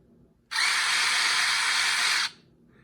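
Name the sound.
Dewalt impact driver running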